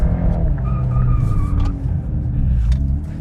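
A VW Golf R engine drones loudly from inside the car, shifting up through a gear on a short track with a deep steady rumble, no voices over it.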